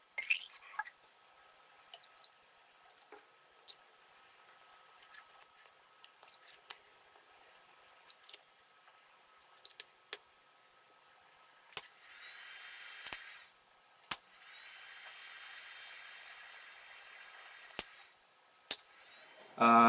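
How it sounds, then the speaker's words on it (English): A Corsair H100 pump draws water from a bottle, giving scattered faint drips and clicks and then two longer bursts of gurgling, rushing flow, quiet and close with no voices. "So now I'll be filling this up with water and checking the water flow."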